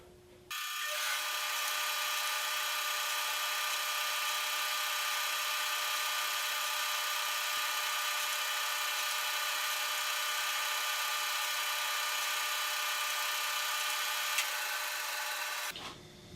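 A band saw runs steadily while cutting wooden guitar kerf lining, a loud continuous whine with rasping cut noise starting abruptly, holding for about fifteen seconds, then stopping, with no talk.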